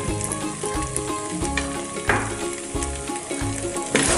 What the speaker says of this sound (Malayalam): ഇനി നമുക്കിതിലേക്ക് കുറച്ച് നമ്മൾ എടുത്ത് വെച്ച എള്ളിട്ട് കൊടുക്കാം.